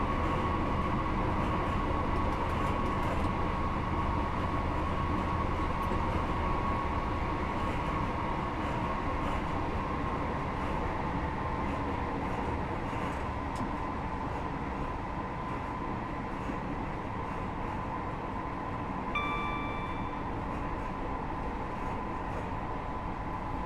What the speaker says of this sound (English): I got to remember that this is a DMU, not an EMU.